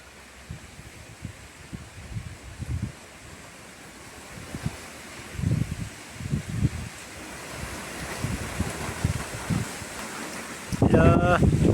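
Strong typhoon wind roars steadily with low gusty rumbles buffeting the microphone, and a brief louder burst near the end.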